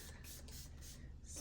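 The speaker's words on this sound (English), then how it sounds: "I'm just gonna spray a little bit over my hair" Hair spray misted over hair in a short continuous hiss, close and steady, with no talking.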